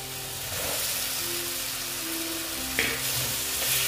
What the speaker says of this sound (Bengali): আলুগুলো এটার সঙ্গে ভালো মতন কষিয়ে নিচ্ছি।